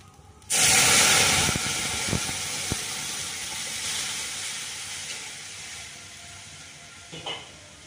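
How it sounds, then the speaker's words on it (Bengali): Milk is poured into a hot pan of fried rice for payesh, bursting into a loud hissing sizzle that slowly fades to a softer steady bubbling, with a few faint clinks. "দুধটা ঢেলে দেবো।"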